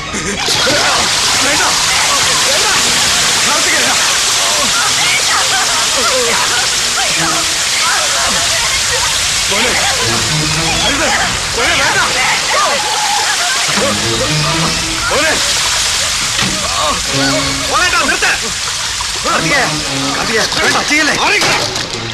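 Liquid sloshes and splashes as it is poured, probably fuel, beside a fire during a violent confrontation; loud and continuous throughout, with shouting voices over it.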